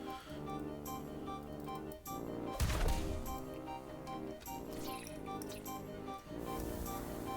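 Water Blade attack from the video game Temtem: a splashing, sloshing liquid burst with a sharp crash in the middle, layered over steady game music with no talking.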